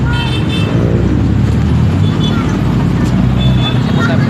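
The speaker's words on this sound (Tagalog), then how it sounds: "Sobrang traffic talaga." Heavy, congested road traffic in the Philippines surrounds people walking by, with loud engine rumble, passing vehicles and a few short horn toots mixed into the steady roar.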